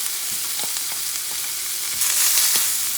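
Elk steak searing in a pan with butter gives a loud, continuous hiss and crackle that swells toward the end, with no voices.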